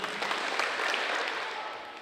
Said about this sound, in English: I say clap 4 times.